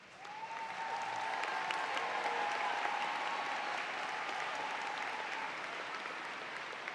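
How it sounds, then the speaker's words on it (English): Steady, sustained applause from a large commencement audience at Severn Run High School for standing cum laude graduates, a dense even wash of clapping heard from a distance, with a faint tone running through it. "All cum laude students, please stand now so that we may applaud your achievements."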